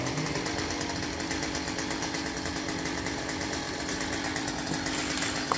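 A saw runs steadily while cutting through a coconut tree in the rain, a loud, buzzing, rapidly pulsing drone that carries on without a break for several seconds.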